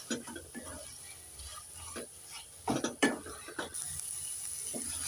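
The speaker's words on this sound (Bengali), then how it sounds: "এবার একটু নেড়ে চেড়ে কচু শাকের বাকি জলটাকে শুকিয়ে নেব।" Taro greens cooked with grated coconut are stirred in a pan to dry off the remaining water, giving intermittent scraping and clattering strokes against the pan, with a few louder bursts in the middle over a low background.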